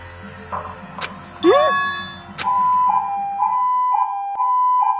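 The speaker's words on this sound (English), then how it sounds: "An ambulance?" An ambulance siren in the Danganronpa 2 video game sounds as a loud, steady wailing tone after a few sharp metallic dings and a rising whoop.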